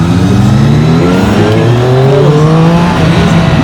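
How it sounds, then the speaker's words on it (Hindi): A loud engine revs and climbs in pitch as the throttle is blipped, heard on track on a Triumph motorcycle such as the Street Triple 765 or Daytona 660. Rising and falling tones sweep across a continuous roar that stays close and dominant throughout. "You blip the throttle"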